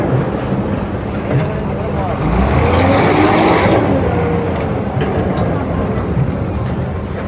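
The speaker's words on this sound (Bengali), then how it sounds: "দেখুন এই ইঞ্জিনটা এবার খুব জোর দিয়েছে" A loud engine on a picnic outing runs hard with a steady roar, swelling in the middle under wind buffeting on the microphone.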